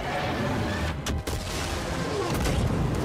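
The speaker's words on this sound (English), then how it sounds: "Nice explosions, though" Explosions in Star Wars Jedi: Fallen Order during an AT-AT attack: a continuous heavy roar of blasts and rumbling debris, with a few sharper bursts rising out of the dense din.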